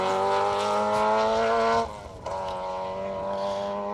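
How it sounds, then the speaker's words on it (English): Peugeot 205 GTI rally car at a hairpin on a Manx Rally stage, engine droning loud and close with steady harmonic tones, dropping off sharply then picking back up as it powers out of the bend. "James Nichols, David Allman, bouncing that Peugeot 205 GTI over the hairpin"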